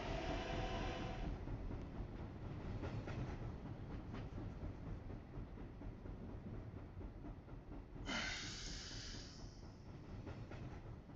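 A local train in a video game rolls along with a steady, rumbling clatter, and a sharp hiss bursts in near the end over the constant running noise.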